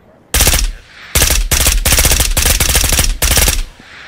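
FAMAS rifle in Ghosts of Tabor fired from the hip in several rapid full-auto bursts, loud and close, with short gaps between the strings of shots and no talking.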